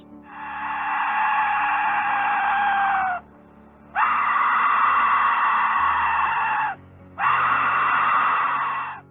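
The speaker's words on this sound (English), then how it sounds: "a reconstruction of what a variety of Aztec whistles sounded like" Three long, piercing shrieking blasts from a reconstructed Aztec death whistle, like a human scream, each held for a few seconds with brief silent gaps between them.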